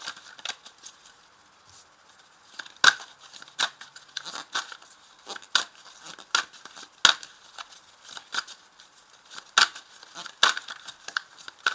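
Tarot cards are handled and drawn from a deck, making close, crisp paper flicks, rustles and snaps that come in irregular bursts over an otherwise quiet background.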